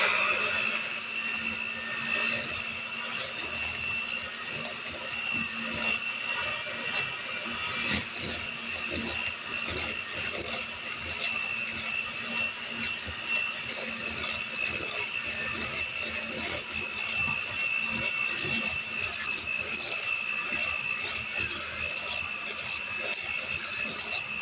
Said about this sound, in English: Now we're going to mix this butter and sugar up.